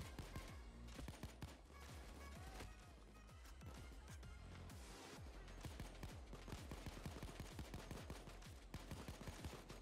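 Rapid gunfire in the video game Payday 2, bursts of automatic fire and overlapping shots crackling densely and steadily throughout, loud and close with no talk.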